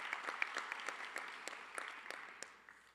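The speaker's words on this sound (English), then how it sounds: "give them a round of applause" A graduation crowd at a college of art and design commencement ceremony applauds, steady distant clapping that is fairly faint and tapers off toward the end.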